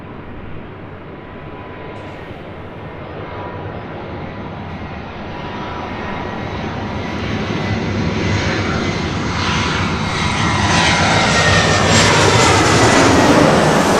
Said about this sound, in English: It's the A319 with Delta coming in from Las Vegas.